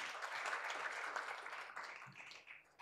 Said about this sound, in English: Professor Leland Ware, please give him a round of applause.